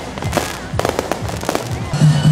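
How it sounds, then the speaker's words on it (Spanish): Sharp firework bursts crack and pop in quick succession at close range during a town festival's closing, loud and irregular, with some crowd noise mixed in. "Me gustaron todos los cohetes que aparecieron ahí."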